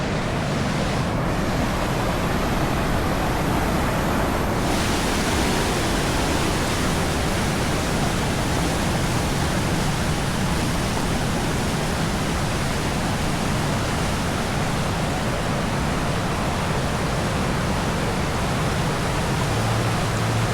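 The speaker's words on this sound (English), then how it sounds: "We've never seen this waterfall before in normal times." A flood-swollen waterfall in Ohio after heavy April rain roars in a dense, unbroken torrent of rushing water, loud and close, with no talking for the full twenty seconds.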